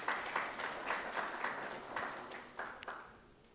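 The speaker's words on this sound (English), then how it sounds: "Let's give them a round of applause" A student audience applauds at a university campus inauguration ceremony for newly sworn-in student council leaders: a moderate, steady wash of clapping that slowly thins and fades toward the end.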